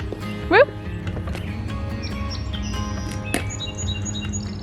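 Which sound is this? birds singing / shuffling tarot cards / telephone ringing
birds singing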